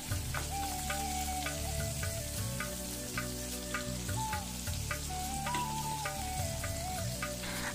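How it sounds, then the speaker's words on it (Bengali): Marinated rohu fish and potatoes frying together in hot oil, a dense, steady sizzle and crackle close up, with a tonal hum underneath throughout. "তেলটা গরম হয়ে গেলে দিয়ে দিচ্ছি ম্যারিনেট করে রাখা মাছগুলো"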